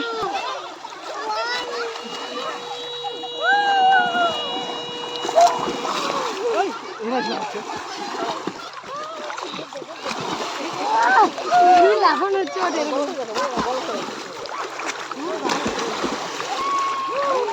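Splashing and churning water from people jumping in, continuous and fairly close, with children's voices and chatter throughout and a few higher whistling tones early on.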